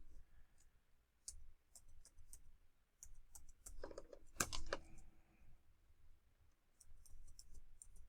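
Typing on a computer keyboard during user account and password setup, soft scattered key clicks at close range with a brief louder cluster of taps near the middle.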